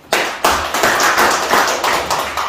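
An audience at a Korean alumni association board meeting bursts into applause, the clapping starting sharply and continuing in close, dense, uneven bursts.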